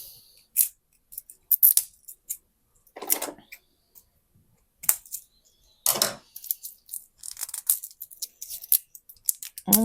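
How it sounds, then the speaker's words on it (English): Scissors snip open a plastic-wrapped package of Christmas dessert decorations, a few sharp separate cuts scattered between pauses and crinkling handling noises, close and moderately loud. "I need to open them with the scissor."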